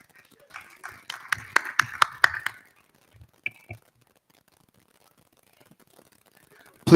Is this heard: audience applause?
yes